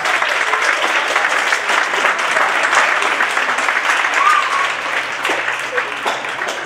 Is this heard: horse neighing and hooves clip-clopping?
no